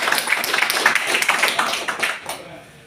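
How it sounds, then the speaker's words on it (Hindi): Audience applause at a network marketing meeting in a Dubai office: dense, steady clapping from many hands that holds for nearly three seconds, then thins out toward the end. "आप सबके लिए जोरदार तालियां"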